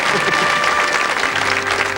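Sustained studio audience applause on a 1985 3-2-1 game show episode set around Scotland, a full, even roar of many hands clapping with no voices on top.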